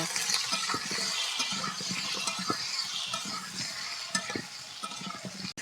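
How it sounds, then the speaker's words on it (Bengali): Egg, potato and pointed gourd fry in hot oil with turmeric while being stirred in a pan: a steady bright sizzle with repeated scraping and clinking strokes of the utensil, close and continuous, ending with a sharp knock. "এবার নেড়ে নেব"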